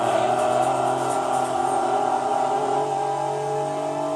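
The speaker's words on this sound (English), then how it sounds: "I love the sound that a Viper makes, man." A Dodge Viper engine in the racing game Gran Turismo 2 holds a steady, loud mechanical drone with sustained harmonic tones, the pitch settling slightly lower toward the end, with no talk.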